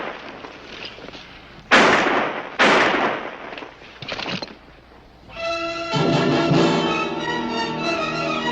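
Two sharp, loud gunshots ring out a second apart in a western TV drama, followed by a softer burst, then a swell of orchestral music.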